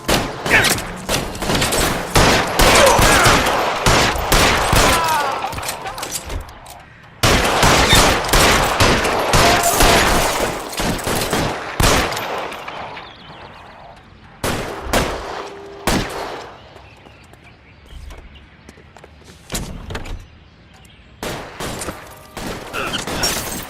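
Gunfire in the video game L.A. Noire Remastered during a shootout with security men, dense rapid bursts of shots in loud clusters with short pauses between volleys.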